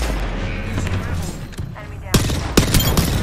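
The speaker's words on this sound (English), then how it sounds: "I'm getting shot on the side by a different team" Gunfire from a firefight in the battle royale game Apex Legends, with a busy mix of rumbling action and two sharper, louder shots near the end, under steady game noise.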